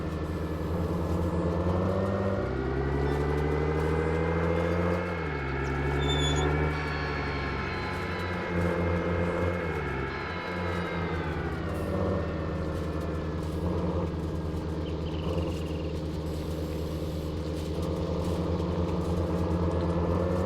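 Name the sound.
old John Deere tractor engine in video game Farming Simulator 19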